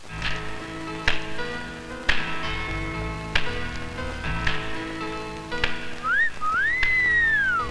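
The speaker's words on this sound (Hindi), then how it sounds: "कितनी सुरीली सीटी थी।" A person whistles a bright, sliding melodious tune near the end, preceded by a series of sharp taps in a steady rhythm.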